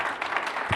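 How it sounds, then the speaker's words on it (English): An audience claps at a virtual event, a short, fairly soft burst of steady applause from many hands with no one speaking over it. "Let's give them another round of applause."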